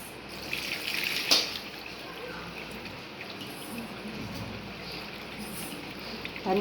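Water splashes and trickles into a bowl of oil and sugar, steady and close, with a brief clatter early on and quiet background noise.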